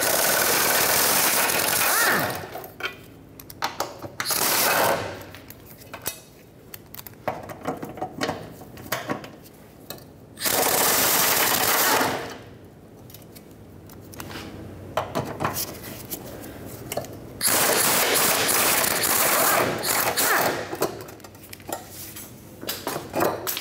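Ratchet working 10 mm bolts off a brace under a 2013-2019 Ford Escape during front catalytic converter replacement, loud close bursts of clicking and clattering metal separated by short quiet gaps.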